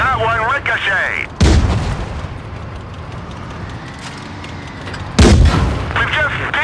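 Tank cannon fire and shell hits in World of Tanks Blitz, with Cruiser II and Pz35(t) in Big Boss mode: two heavy booming blasts with rumbling tails, the second near the end, alongside voiced game announcements.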